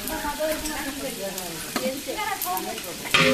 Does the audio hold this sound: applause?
no